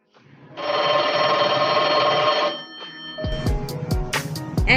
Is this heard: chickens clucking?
no